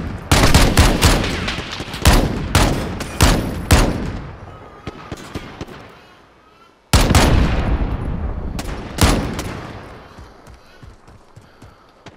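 Bursts of rapid automatic gunfire from Call of Duty Modern Warfare in a 2v2 match, loud and close, in several volleys separated by short pauses, with players talking over parts of it.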